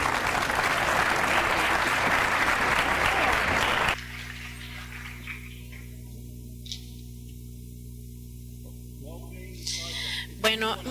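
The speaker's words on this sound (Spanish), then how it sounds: "Por favor, demos un fuerte aplauso" Applause for Dr. David Weinstein at a glycogen storage disease conference, loud and sustained for about four seconds, then cut off abruptly and followed by a quiet room hum with a few faint sounds.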